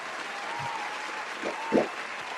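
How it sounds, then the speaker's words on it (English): Applause from an audience at a talk honouring Dr. Sebi, a steady wash of clapping held at an even level throughout, with a couple of louder, closer claps or thumps near the end. "Let's give him a well-deserved round of applause."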